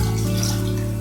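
Cold water pours steadily over drained noodles in a pan, a continuous rushing stream at close range with no speech.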